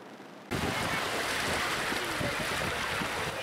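Gentle, low surf rolls onto a shallow shore at Mayangan Beach in Probolinggo. A steady, close wash of water starts abruptly after a brief quiet moment and continues evenly throughout.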